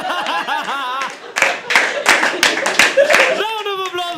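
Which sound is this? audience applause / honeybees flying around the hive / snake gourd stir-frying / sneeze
audience applause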